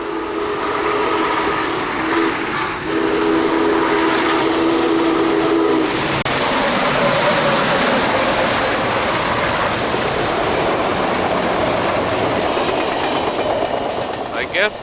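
Rumbling roar of the SP&S 901 Challenger steam locomotive on a test run, loud and continuous throughout, with a whistle-like tone early on and broadband rushing noise as it passes close by.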